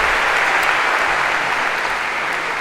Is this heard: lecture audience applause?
yes